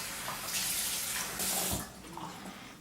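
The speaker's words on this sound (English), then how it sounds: "I'm going to moisten my skin with some water" Warm water runs from a tap to moisten skin before shaving, a close, steady splashing hiss that swells briefly twice as hands move through the stream.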